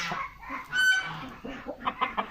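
A hen and a young rooster cluck at close range, a short series of throaty clucks with one louder drawn-out call early on, followed by several quick clucks.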